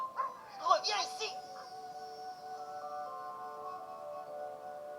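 Snowy, Tintin's small white cartoon dog, gives a few short yips and barks near the start, followed by a lingering tonal hum from the scene.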